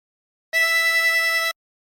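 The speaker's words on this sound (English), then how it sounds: "And blow into 7." One blown note on hole 7 of a 16-hole tremolo harmonica rings out for about a second, bright and wavering with the instrument's characteristic tremolo shimmer, played up close with no other sound.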